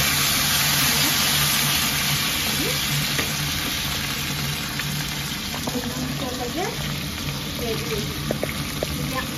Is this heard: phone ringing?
no